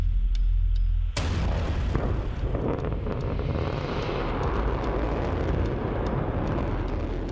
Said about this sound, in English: The US tests its Doomsday missile.